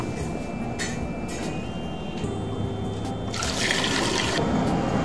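Water pours into a kitchen pan for boiling, a continuous close splashing stream that grows fuller and louder toward the end, with no voices.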